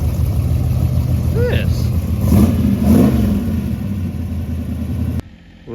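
A car with its rear wing removed revs and accelerates under steady outdoor noise, its engine rising and falling in a couple of swells while someone talks over it, then cuts off abruptly near the end.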